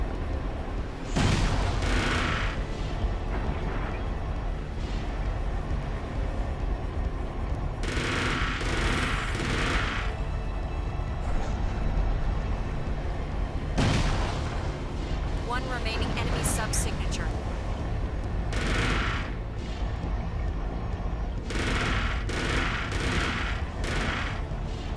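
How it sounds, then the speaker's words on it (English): A missile fusillade from surfacing submarines in Armored Core 4 sounds as repeated broad blasts and rushing bursts in clusters, loud against a constant low rumble, with voices speaking between the blasts. "They're preparing a missile fusillade."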